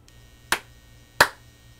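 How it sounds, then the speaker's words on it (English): Two sharp hand claps from one person, spaced under a second apart, crisp and close against a quiet room. "can you clap for me?"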